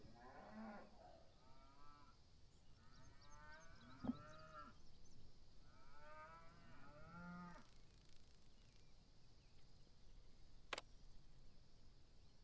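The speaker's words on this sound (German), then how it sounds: "Machen wir da unten noch ein paar Bio-Kühe hin." Cows moo repeatedly in the farming video game Farm Manager 2021, several drawn-out lowing calls one after another at moderate distance over a quiet ambient bed, with a couple of brief clicks.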